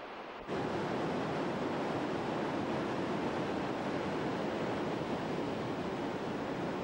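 The small Lison River in the Jura Mountains roars as it emerges from underground, a dense, continuous rushing of water that holds steady and loud throughout with no voices.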